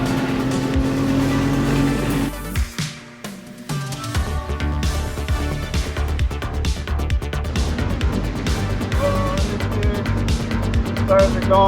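A BMW M3 CS is driven hard on a race track, its engine roaring loudly and continuously, rising and falling through revs and gear changes with a brief dip midway.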